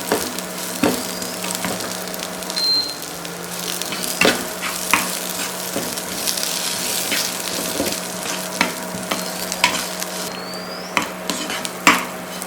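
Spices sizzle in hot oil while tempering for kochchi coconut mallum, a steady crackling fry punctuated by sharp clinks and scrapes of a spoon stirring in the pan.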